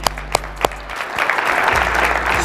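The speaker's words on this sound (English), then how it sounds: "Let's clap it up for the youngsters." A few sharp isolated claps open, then a crowd at a business motivational talk breaks into steady applause for the younger attendees, moderately loud and continuous to the end.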